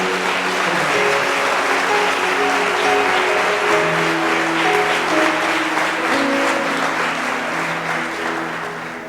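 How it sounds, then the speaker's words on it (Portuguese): Church congregation applauding during a sermon, loud continuous clapping filling the hall while sustained keyboard or organ chords play underneath. "Você pode aplaudir o Senhor por isso?"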